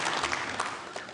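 Conference audience applause at a Conservative Party leadership event: a dense, even wash of clapping from a crowd, sustained and fairly loud through the whole moment, with no clear talk over it.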